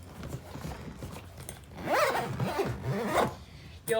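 A hyperbaric chamber's zipper is drawn closed in a few rasping pulls, close and moderately loud, ending with a short sharp zip.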